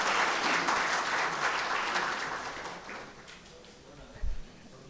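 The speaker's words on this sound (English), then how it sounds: "How about putting your hands together and welcoming him?" An audience claps in welcome for Shri M at a business management talk in Ahmedabad, a dense roar of applause that gradually thins and fades, ending with a brief thump.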